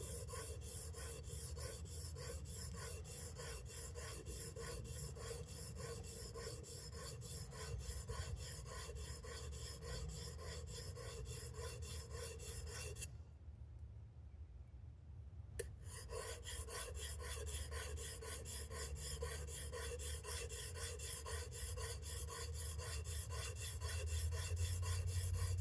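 A steel plane iron is pushed back and forth across a sharpening stone, giving a steady, close gritty rasp that stops for a couple of seconds midway and then resumes.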